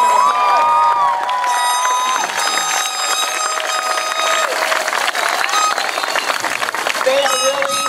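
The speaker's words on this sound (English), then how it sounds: "let's give the class of 2015 a huge round of applause" A crowd at an 8th grade graduation ceremony in Long Beach, California cheers and claps for the class of 2015, a loud, continuous swell of applause and shouting voices that fills the hall throughout.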